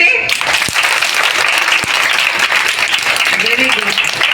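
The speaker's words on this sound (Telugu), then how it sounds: "క్లాప్స్ కొట్టండి." Students in a hall clap together in a dense, loud, sustained round of applause, with a couple of sharp knocks and a voice faintly audible under the clapping toward the end.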